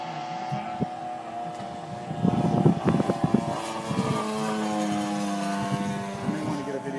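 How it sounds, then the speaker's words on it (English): A model B-17 bomber flies at a model airplane show, its steady droning, multi-toned engine hum holding throughout while people talk nearby. "This is a B-17 bomber."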